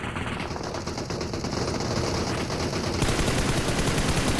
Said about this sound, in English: Loads of shots all over the place.